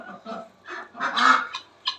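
Guinea fowl feeding on scattered wheat in a garden give a handful of harsh, nasal honking calls up close, in uneven bursts with brief gaps, and no talk.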